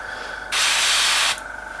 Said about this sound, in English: there's obviously a problem in my airbrush needs maintenance because it's still going and it shouldn't be